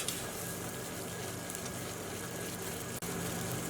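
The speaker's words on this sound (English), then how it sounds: "all we're going to do now is just keep on stirring" A sohan sugar mixture with saffron and ground cardamom bubbles in a pan while being stirred, making a dense, even hiss that runs close and continuous with one brief dip.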